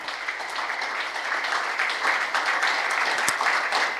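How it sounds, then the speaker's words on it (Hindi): An audience at a spiritual talk applauds together in thanks. The clapping is steady and fairly loud, a continuous crowd patter lasting several seconds with no speech over it. "तहे दिल से एक बार ताली बजाकर हम उन सभी का धन्यवाद करते हैं"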